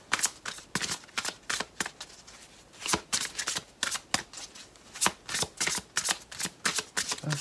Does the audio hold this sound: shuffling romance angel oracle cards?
yes